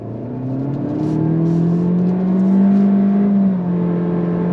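A 2024 Honda Civic Touring's turbocharged engine pulls from a slow roll under throttle, its steady rising drone climbing in pitch, dipping briefly as if shifting, then continuing to build before easing off, heard from inside the cabin.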